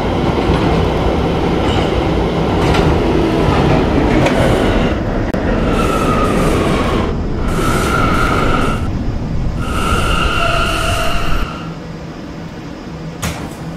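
An R179 D subway train runs in a Roblox game, its motor hum and wheel rumble loud and steady, with rising and falling electric motor whines before the sound drops to a quieter idle near the end.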